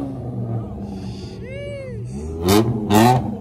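A car revs and races at a New York City street takeover, engine rises and falls under people talking, then two loud, sharp bursts near the end.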